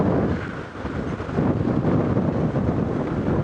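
Strong wind buffets the microphone on an open safari game drive in the African bush, a steady low roaring rush that swells and surges without a break, loud and close, with no talking.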